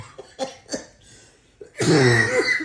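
A woman coughs repeatedly in a domestic home setting, a few short separate hacks followed by a louder, sustained bout of coughing and throat clearing close to the listener.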